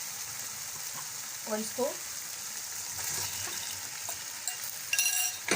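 Arvi (taro root) goes into a ready masala and is fried and stirred, giving a steady close sizzle with spoon scrapes and clatters, while someone speaks briefly over it.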